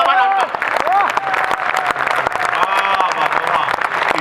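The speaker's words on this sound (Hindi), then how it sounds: "आपने तो कविता की पंक्ति पे ताली बजा दी" An audience at a Hindi poetry recital bursts into dense, steady applause, loud and close, with a voice carrying on over the clapping throughout.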